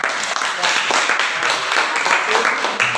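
Classroom of students claps their hands together, a burst of uneven, overlapping claps close by that fades after a few seconds, with some voices mixed in.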